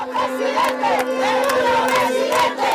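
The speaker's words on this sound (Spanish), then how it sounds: "Sonaban las cornetas, el choque de los aplausos, el grito de libertad" A large crowd at a political rally in Quito chants and shouts together for freedom, with the sustained, loud massed voices swelling and falling over a steady droning tone.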